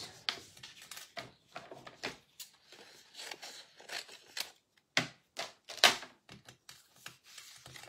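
A die-cutting machine presses a die through card stock, giving a run of sharp, clicking and clattering mechanical bursts of uneven rhythm, close by and moderately loud, with no talking.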